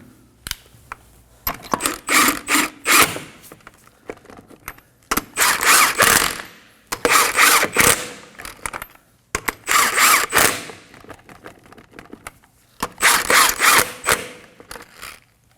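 A hand ratchet snugs car wheel lug nuts in quick clicking bursts, five or six separate runs of sharp metallic ratcheting with short pauses between, close and loud with no talk.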